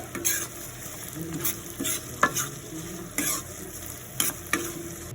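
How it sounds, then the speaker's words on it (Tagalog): Mussels frying in a pan with ginger and onion, a steady sizzle broken by repeated scraping stir strokes, close and moderately loud with no talking. "Nung maluto na nga yung luya at ang sibuyas, nilagay ko na rin agad itong tahong."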